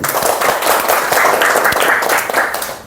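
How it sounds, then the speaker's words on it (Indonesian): A crowd claps together at a smartphone technician training session, a dense, close round of applause sustained evenly throughout. "tepuk tangan dulu"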